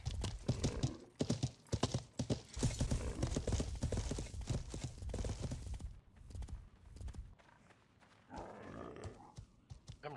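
Horse hooves clip-clopping in the medieval online game Life is Feudal, rapid close hoofbeats followed by a quieter stretch and a faint neigh near the end.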